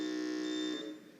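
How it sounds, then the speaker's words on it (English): A quiz contest buzzer pressed by a competing school sounds as a loud, steady electronic tone that holds for most of a second, then fades out. "you will notice that the buzzers are different for each school"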